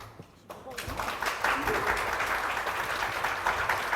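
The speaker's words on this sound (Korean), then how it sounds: "박수 소리가 크지 않아서 지금 무대를 안 나오고 있어요" Audience applause at a live concert-style event, a dense burst of clapping that starts abruptly after a short pause and holds steady at moderate loudness.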